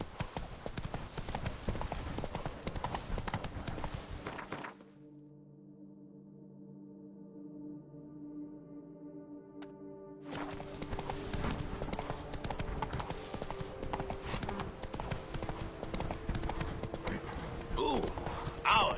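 Roach, the horse in The Witcher 3, clip-clops at a steady walking rhythm. The hoofbeats sit close under game music, drop out briefly midway, then return, with a voice talking over them.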